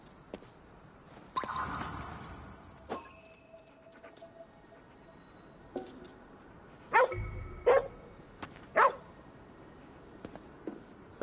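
In the video game Ghostwire: Tokyo, a dog barks a few short times, sharp and fairly close, among scattered game effects and quiet ambience, with long gaps of near silence.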